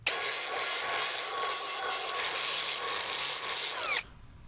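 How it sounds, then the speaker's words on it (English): An angle grinder smooths sharp edges off new steel feet for a welding table, a loud, continuous high whine with rhythmic rises and dips as the disc bears on the metal, then stopping suddenly. "I'm gonna grind all the sharp edges off of it"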